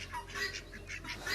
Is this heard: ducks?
yes